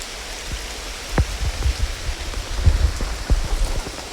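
Rain falls under a sycamore tree outdoors, a soft steady patter with scattered louder drops striking nearby surfaces, close and continuous with no voices.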